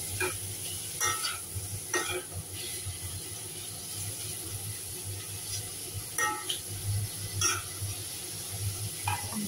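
Meat for adobo stirred and frying in a pan, a steady sizzle running throughout with occasional scraping stir strokes standing out at intervals, close and moderately loud, no talking.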